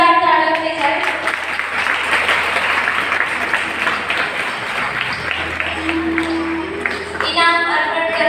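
A crowd at a school prize-giving ceremony breaks into sustained, dense applause, loud and close, with a voice briefly audible near the end as the clapping tapers off.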